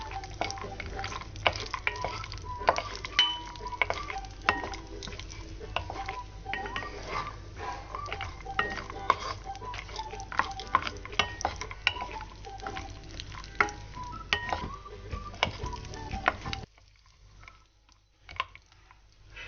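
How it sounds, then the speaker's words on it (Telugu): Cashew nuts fry in a pan with a soft sizzle while a utensil stirs them, making dense, irregular scrapes and clicks close by. Near the end the sound cuts to near silence. "జీడిపప్పు కొద్దిగా వేగాక దీన్ని వేపుదాం"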